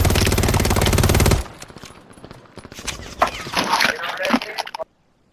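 Rapid automatic gunfire in a video game match on Rebirth Island, a loud dense burst of shots for over a second, followed by scattered quieter shots and impacts, with a voice talking over them.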